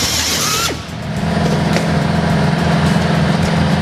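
A cheap air drill bores metal with thread cutting oil. A high whine cuts off, then a steady, loud grinding buzz with a rough pulsing texture keeps going to the end.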